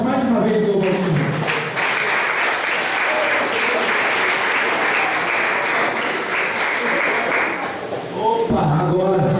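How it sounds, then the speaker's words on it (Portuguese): Church congregation applauding during a Portuguese-language worship service, a full burst of clapping that swells and holds, with a voice speaking over it at the start and again as it fades out. "As palmas mais uma vez"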